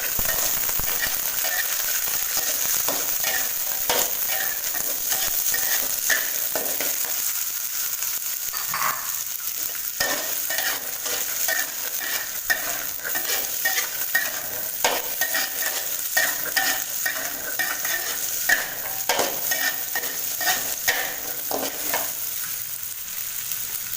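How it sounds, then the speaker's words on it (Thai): Garlic stir-frying in hot oil in a wok for a squid and stink bean dish with shrimp paste, a steady close sizzle with repeated scraping and tossing strokes throughout, no talking. "แรกก็ตั้งน้ำมันให้ร้อนแล้วก็ใส่กระเทียมก่อน"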